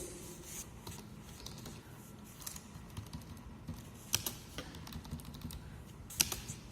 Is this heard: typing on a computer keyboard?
yes